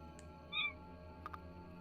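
A cat character in the video game Timespinner gives a short, thin meow, quiet and brief against a soft background of game music.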